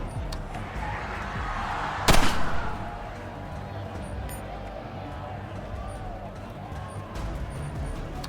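A grenade goes off in the video game Colony Ship, one sharp loud blast followed by a brief rumbling decay over steady low background ambience, with voices talking faintly.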